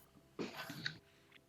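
A person sneezes once during a tabletop role-playing game session, a short sharp burst standing out above a quiet room, followed by a softer trailing exhale.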